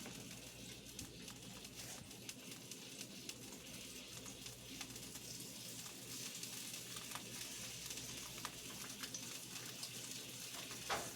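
Sausage sizzling in a skillet for breakfast sliders, a dense continuous frying hiss and crackle held at an even level throughout.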